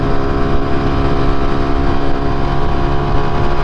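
Constant engine drone and heavy wind rush from a Honda Pop 110 motorcycle cruising on a highway, loud and close with a steady rumble throughout.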